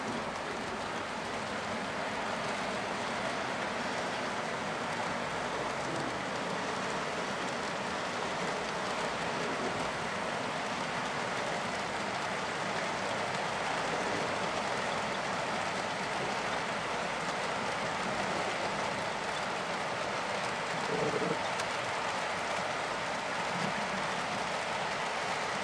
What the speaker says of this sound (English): you can see there's a train running on the main line right now